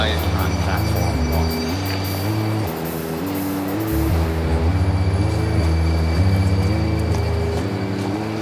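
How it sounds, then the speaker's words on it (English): A train from Limerick arrives at a station platform, rumbling and rolling along the tracks with rhythmic clacking and faint squeals, loud and close, a steady heavy mechanical drone throughout. "the 1300 hours train from Limerick has now arrived on platform 1"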